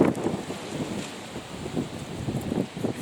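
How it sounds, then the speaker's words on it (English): Gusty wind buffets the microphone outdoors in a kitchen garden, a low rumbling rush that swells and fades over a few seconds. "considering how windy it is"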